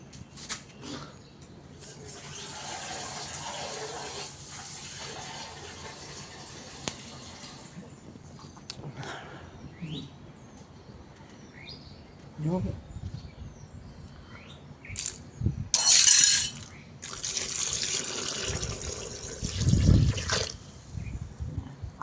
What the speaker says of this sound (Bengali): আরও খানিকটা জল দিয়ে ভিজিয়ে রেখে দেব